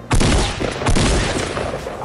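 Gunfire in Fortnite as a player shoots down his own teammate, a dense burst of rapid shots with sharp repeated cracks running loud and steady for about two seconds.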